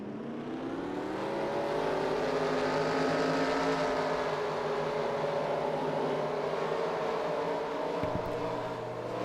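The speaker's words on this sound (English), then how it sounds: "Drivers, start your engines!" A field of race car engines in a dirt track racing video game fires up and holds a loud, continuous, buzzing drone with a brief blip near the end.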